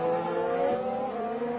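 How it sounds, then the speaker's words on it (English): Formula 1 race car engines at the 2019 British Grand Prix as cars enter the pits, a continuous high-pitched engine whine heard at a distance with no talking. "into the pits comes Charles Leclerc, and into the pits comes Max Verstappen"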